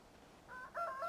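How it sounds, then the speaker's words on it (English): A rooster crows nearby in a short, fairly faint call with two rising, wavering tones, alone without any talk. "Cocks crowing."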